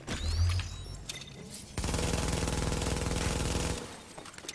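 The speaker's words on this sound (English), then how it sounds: "So this guy's using a shotgun." Shotgun fire in The Division during a Dark Zone PvP fight: a loud, dense burst of gunfire and impacts runs for about two seconds, preceded by scattered shots and mechanical clatter.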